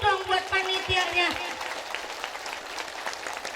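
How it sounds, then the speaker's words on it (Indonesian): Audience at a humorous Islamic sermon clapping for the organizing committee; a voice speaks over the start, then scattered clapping carries on under light crowd noise. "Tepuk tangan dulu dong buat panitianya."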